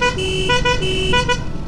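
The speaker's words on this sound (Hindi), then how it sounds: "हॉर्न चेक करो।" A vehicle horn, just repaired, is tested with a quick series of loud, close honks, short bursts with brief gaps between them, and no talking.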